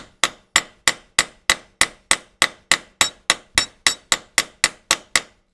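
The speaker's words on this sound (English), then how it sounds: "get a hammer and gently tap it in" Hammer tapping a bolt into a frame slider bracket on a 2003 Honda CBR 600 RR, a steady run of about seventeen evenly spaced, close, ringing metallic clangs with no talking.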